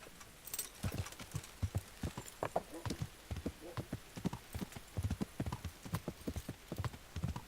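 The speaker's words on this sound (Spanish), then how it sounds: "Vamos a coger el caballo y vamos a ir" A horse trots in the medieval game Kingdom Come: Deliverance, its hooves clip-clopping in a steady, quick rhythm over a faint background hiss. No one speaks.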